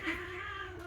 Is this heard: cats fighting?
yes